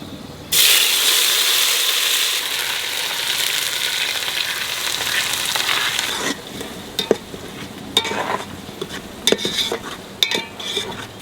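Onion paste dropped into hot oil with cardamom, cinnamon, cloves and bay leaves, cooking for a mutton curry, bursts into a loud, steady sizzle that later thins out, with scattered utensil clinks and scraping from stirring.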